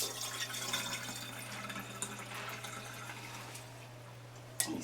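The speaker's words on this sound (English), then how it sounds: "Let me rinse my hands off." Hands being rinsed under running tap water in a home kitchen while baking pecan pie cookies, a steady splashing hiss over a low hum, ending with a small clatter.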